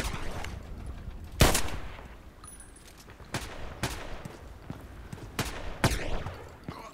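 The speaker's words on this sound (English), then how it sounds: "Who's shooting there all the time?" Gunfire in the online shooter Contract Wars: a loud single shot, followed by several sharp, widely spaced shots and bursts, some nearer and some farther off, with no talking.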